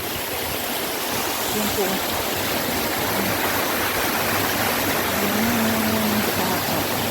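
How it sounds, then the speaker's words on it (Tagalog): A mountain stream near falls rushes as a constant broadband wash of flowing water, close and steady, with brief speech over it. "Sapa dito. May sapa."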